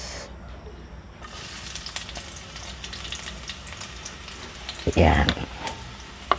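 Chopped onions sauté in a little hot oil in a pan while beef tripe callos is being cooked, giving a steady close sizzle. A short spoken word and a louder clatter of movement break in near the end.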